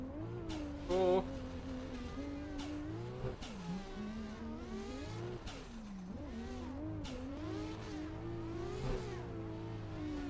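Video game car engine revving steadily and shifting pitch through gears, moderately loud and continuous, with a short burst of tire noise near the start; no talking.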